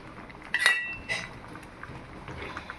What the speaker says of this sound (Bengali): একটু নেড়ে চেড়ে কিছুক্ষণ নেব একইভাবেই